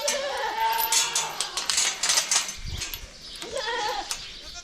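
Several young female goats bleat nearby in wavering calls, overlapping at the start and again near the end, with some background rustling between.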